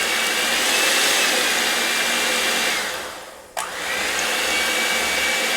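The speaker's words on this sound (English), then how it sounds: "You're going to mix those eggs" Electric mixer beating eggs for a three-ingredient keto bread: steady, loud whirring hum close by, dipping briefly and then resuming, with no talking.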